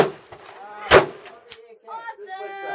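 A single rifle shot cracks out loud and close at an outdoor rifle range, a sharp broadband burst standing out between stretches of people talking.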